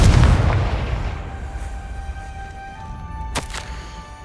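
A Confringo spell explosion in the Hogwarts Legacy video game bursts with a loud, deep boom that decays over a few seconds into a fading rumble, followed by a short sharp double crack near the end.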